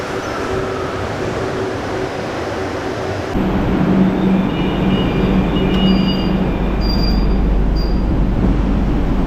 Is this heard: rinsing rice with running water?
no